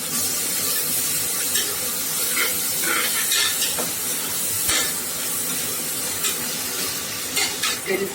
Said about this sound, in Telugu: అందులో కొద్దిగా బాదం పప్పు వేసుకొని కొద్దిగా ఫ్రై చేసుకోవాలి